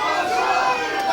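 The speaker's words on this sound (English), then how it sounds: "The crowd, one half of the crowd chanting for Maxx Stardom, the other half for Sam Shaw." A wrestling crowd at a Saving Grace show, split between chants for Maxx Stardom and Sam Shaw, roars as a steady, loud, blended wall of voices.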